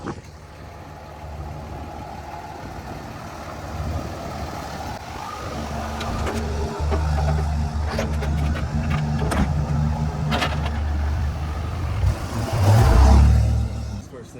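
A 230,000-mile third-generation 5.9 Cummins diesel pickup with a cracked exhaust manifold idles, then revs into a louder rumbling surge near the end, with clattering and engine noise close by.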